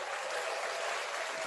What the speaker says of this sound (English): Oh, you want to hear the hand claps?